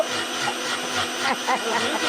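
A mixer grinder whirs loudly and steadily, its motor whine wavering slightly as it runs.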